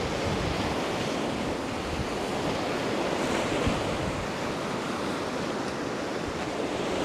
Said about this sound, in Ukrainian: зимове море